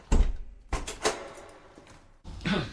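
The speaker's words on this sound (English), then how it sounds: "Open the door and come in." A door opens in a radio drama of Poe's The Fall of the House of Usher: a sharp latch clack, then several knocking thuds and a scraping swing, fairly close and with no voices.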